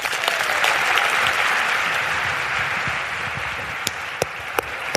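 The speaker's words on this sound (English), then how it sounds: "a humongous round of applause" Audience applause after a speech at a wellness summit, dense sustained clapping from a large crowd filling the whole stretch, with a few sharper individual claps standing out near the end.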